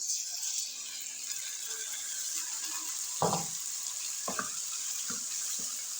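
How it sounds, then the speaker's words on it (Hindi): Beef liver frying with tomatoes in a pan gives a steady, bright sizzle throughout, broken by a few dull knocks of a utensil near the end. "पहले हम कलेजी की बुनाई करेंगे ताकि कलेजी की भी स्मेल ख़त्म हो सके"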